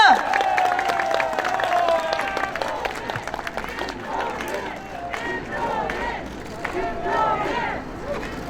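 A crowd at an outdoor election campaign rally in Jongno, Seoul, applauds and cheers, a loud, continuous mass of clapping and shouts mixed with voices and crowd babble throughout.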